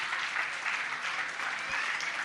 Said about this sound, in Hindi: तालियों में कंजूसी नहीं